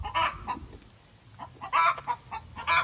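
Chicken clucking in a backyard garden bed, a few short bursts of hen calls close by with quieter gaps between them, no talking.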